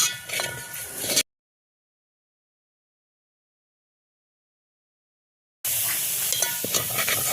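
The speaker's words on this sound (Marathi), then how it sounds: "हे मस्त खमंग असं बेसन पीठ भाजलंय" Besan (gram flour) roasting in ghee as it is stirred, a steady close sizzle with scraping, heard in two stretches split by a long silent gap.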